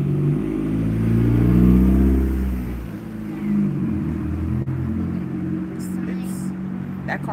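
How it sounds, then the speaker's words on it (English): A loud car passes close by on a street, a heavy low engine rumble swelling over the first few seconds and then fading, while a person talks quietly throughout. "That car was loud."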